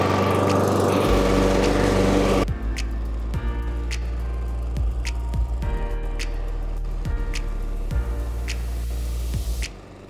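A Huter GLM-7.0 SL petrol lawn mower runs loudly up close, and after a couple of seconds its tone shifts and it keeps going with periodic ticks and knocks from clippings before cutting off at the end.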